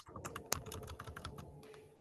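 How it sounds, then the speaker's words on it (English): Rapid typing on a computer keyboard, a steady run of close, crisp key clicks with one sharper louder stroke, heard alone without talk. "we really hear the use of the keyboard"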